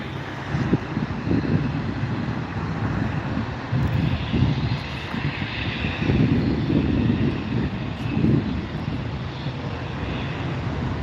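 A Bombardier Challenger 350 business jet at an airport, a continuous loud engine roar with low rumbling swells and wind buffeting, no voices.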